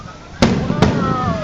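Two sharp firework bangs pop a short interval apart at a pyrotechnics competition at the Mall of Asia, fairly close, over a steady background hiss, with faint voices underneath.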